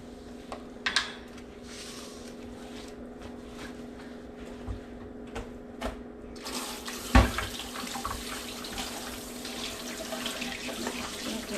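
Steady running water from a tap, drawn as cold drinking water, fills the background, with a few clinks and knocks on top and a louder splash midway through.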